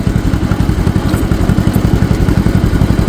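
A 1950 John Deere M tractor engine labours under load while planting oats, giving a steady, loud, low chugging beat with regular firing pulses throughout and no talk over it.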